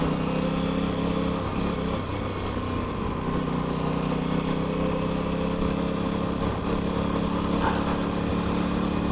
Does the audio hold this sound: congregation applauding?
no